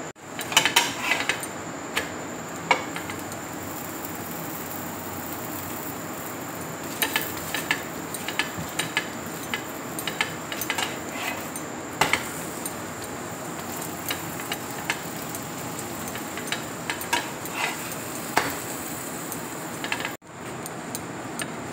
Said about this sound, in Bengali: এবার আমি পরোটাগুলো তাওয়ার মধ্যে দিয়ে দিচ্ছি। দেখো পরোটা ছাকা হয়ে গেছে। এবার আমি ঘি দিয়ে দেখো ভেজে নেব।